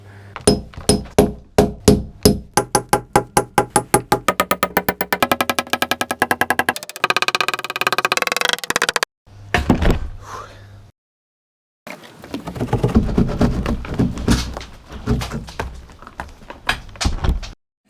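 Hammer blows knocking a wooden block off a shed wall, a long run of sharp, loud strikes that speed up into rapid pounding, then a pause and more rattling, banging bursts close by.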